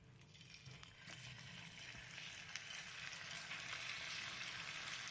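Battered cauliflower pieces for gobi 65 frying in hot oil, a steady soft sizzle and crackle that holds evenly throughout with no talk over it.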